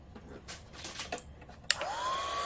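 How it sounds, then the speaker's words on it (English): Faint handling noises come first, then a heat tool for drying string on watercolour card switches on with a sudden loud blowing rush and a rising whine that holds steady to the end. "I'm going to use my heat tool just to make sure the string is dried"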